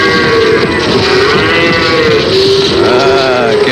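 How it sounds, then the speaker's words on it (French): A herd of cattle mooing loudly and close, long overlapping lowing calls filling the whole stretch with no pauses. "Quel superbe troupeau de vaches."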